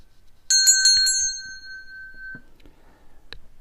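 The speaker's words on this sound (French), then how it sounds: "et une cloche" A small hand bell used in a Hoodoo ritual rings with a quick flurry of four bright, close strikes, then one lingering tone fades, followed by a couple of faint knocks and a last soft ding.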